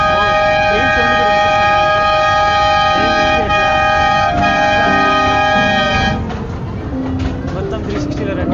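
A mini train in Ooty sounds a long, loud, steady horn blast for about six seconds, then rumbles and clatters along the track, heard from on board with people talking underneath.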